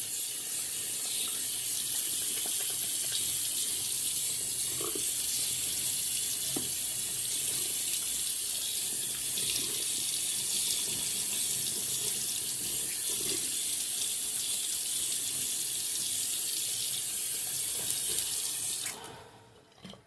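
Steady tap water runs into a sink to wet a shaving brush, a continuous full-bodied splashing stream that holds evenly for about nineteen seconds before cutting off near the end, with no talking.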